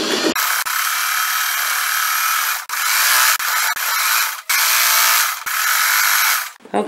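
Sewing machine stitching layered fabric for a crazy quilt tote bag, a loud steady mechanical whir with a few brief pauses and restarts, close up and without talk.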